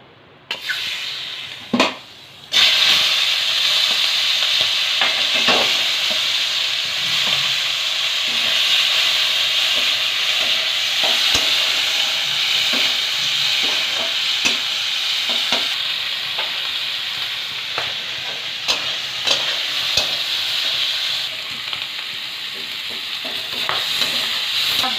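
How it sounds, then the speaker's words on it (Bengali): Prawns rubbed with salt, turmeric and chilli powder fry in mustard oil in a wok, a continuous close sizzle that bursts in after a few quiet seconds and crackles steadily with occasional pops and stirring knocks. "আগের থেকে লবণ, হলুদ ও একটু লঙ্কা গুঁড়ো মাখানো চিংড়ি মাছটা ভেজে নেব।"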